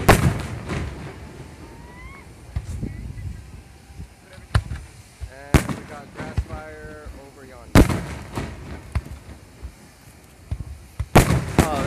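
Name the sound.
fireworks exploding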